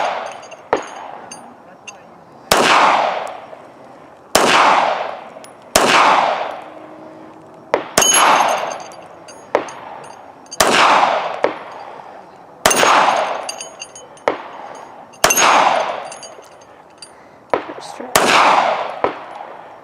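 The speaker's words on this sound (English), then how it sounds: "Well, 9 shots, I was able to hit all 4 of them, so that's not bad considering this is a new gun." Smith & Wesson M&P Shield .380 EZ pistol fired at a range, nine sharp gunshots spaced about two seconds apart, each followed by a ringing metallic target clang and brief echo.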